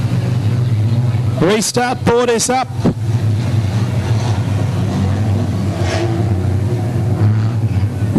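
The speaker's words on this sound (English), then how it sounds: "The cars will circulate." Street stock cars circulating around a race track under a restart, a continuous loud engine drone close by, while an announcer's voice cuts in briefly over the cars.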